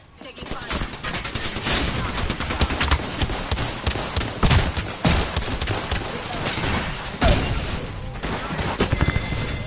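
Bursts of gunfire crackle through a round of the battle royale shooter Apex Legends, with repeated overlapping shots and impacts across the whole stretch while voices talk over the action.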